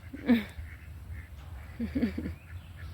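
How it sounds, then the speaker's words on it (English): Mallard ducks, one brown and one green-headed, quack at a park: a single nasal call followed by a short cluster of three quacks, fairly close against a faint low outdoor hum. "We got a brown mallard and we got a regular green mallard."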